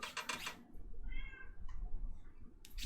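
A cat lets out a close, drawn-out, wavering meow in the middle, then a shorter follow-up cry, between brief noisy bursts at the start and end.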